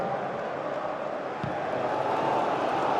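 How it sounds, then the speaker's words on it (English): The crowd in a football video game sends up a loud, continuous roar that builds slightly, a dense wash of stadium noise with no pauses. "Wow, listen to that crowd."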